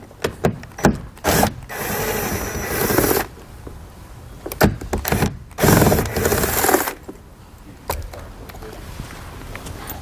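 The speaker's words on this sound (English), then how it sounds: "May have to get a ratchet for the other one here due to the steering wheel" A ratchet works on screws inside the cab of a 2007 truck near the steering wheel, with rapid clicking bursts and rustling handling noises coming in uneven spurts, close up and with no speech.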